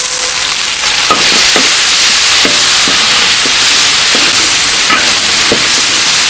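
Chopped chili, ginger and garlic stir-fry in a hot wok for a crucian carp dish, giving a steady loud sizzle and hiss with intermittent scraping clicks of the spatula, no talking.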